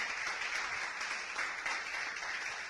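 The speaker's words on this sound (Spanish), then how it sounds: "Dale una ofrenda de palmas a Cristo en esta tarde" A church congregation claps its hands as an offering of praise during a Spanish-language sermon, a steady, moderately distant patter of many hands throughout.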